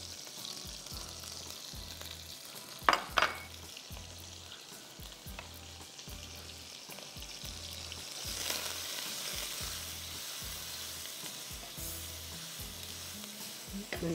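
Ginger garlic paste frying in a pan gives a steady close sizzle with a soft rhythmic low thudding underneath and a couple of brief sharp clinks near the start.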